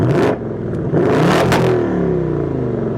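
Loud, close revving from a 2024 Ford Mustang GT V8 with the exhaust set to sport mode: a short throttle blip, a dip, then a rising roar that settles into a steady heavy drone, with no talking.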